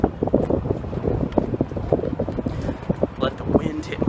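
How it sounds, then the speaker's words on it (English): Wind gusting across an outdoor Portland street, buffeting the microphone with a steady rough rumble and uneven bursts, with faint voices mixed in underneath. "Let the wind hit my face a little bit"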